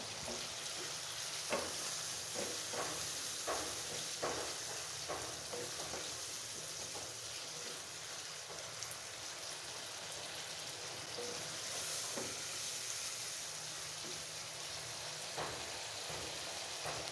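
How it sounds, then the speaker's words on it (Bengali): Golsha fish sizzling steadily as it is sautéed in a pan for a thin curry with stalks and potato, a continuous hiss with occasional crackles and stirring clinks, no talk. "মাছটাকে কষিয়ে নেব"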